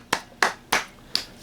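Four sharp hand claps, evenly spaced and close by, each a crisp broadband smack with a quick decay, the last slightly lighter and brighter; no voices or other sounds between them.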